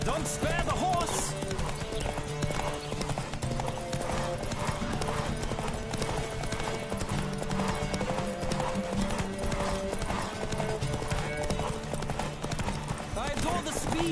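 Hooves clip-clop in a fast, steady galloping rhythm throughout a horse race in The Witcher 3: Wild Hunt on PS5, loud and close under game music, with riders' voices shouting now and then.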